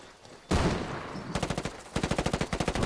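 A burst of noise followed by rapid automatic gunfire in two quick volleys in the video game Ghost Recon Wildlands, loud and close, with no talking.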